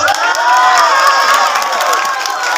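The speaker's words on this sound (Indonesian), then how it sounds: "Tepuk tangan buat bapak-bapak." A crowd of men at a religious gathering cheers and claps loudly and steadily, with shouts and whoops rising over it the whole time.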